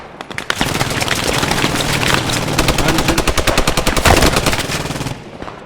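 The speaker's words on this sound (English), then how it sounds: "Somebody's shooting back here." Sustained automatic gunfire in the video game Post Scriptum, set on Veghel, rattles loud and close in rapid bursts with overlapping shots and no break for about five seconds.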